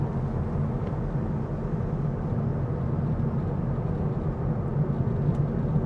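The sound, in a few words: Honda Elevate ZX CVT cabin noise at 60 km/h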